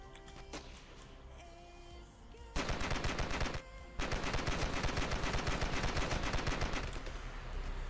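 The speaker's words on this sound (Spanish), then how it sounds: "Vamos a ponernos la ametralladora esta." Machine gun fire in the video game Ravenfield: a few scattered shots, then long, loud, rapid bursts with a brief pause between them.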